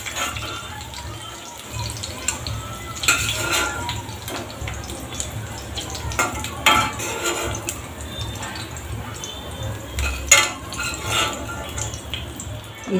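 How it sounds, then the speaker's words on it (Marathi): Onion frying with green bell pepper in a pan for a yogurt capsicum dish: a soft, uneven sizzle broken by scraping and clattering of a stirring spoon, close and moderately loud. "इथे कांदा पण छान असा फ्राय करून घ्यायचा।"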